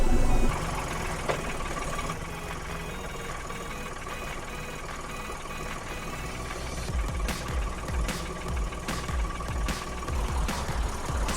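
Diesel tractor engine running steadily while a forklift attachment moves a structural steel beam at a shipping container shop, a continuous mid-pitched rumble with occasional clanks and knocks building toward the end.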